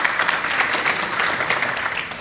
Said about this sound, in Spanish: Un aplauso para el señor rector.